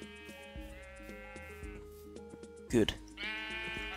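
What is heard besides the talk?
sheep bleating in the video game Minecraft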